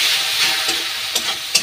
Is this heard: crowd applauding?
no